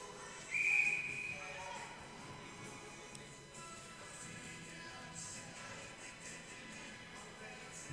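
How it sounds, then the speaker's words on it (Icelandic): A referee's whistle sounds once at a women's ice hockey game, a single clear blast of about a second heard over the rink's crowd and arena murmur. "Þá flautar dómari alla inn á ísinn."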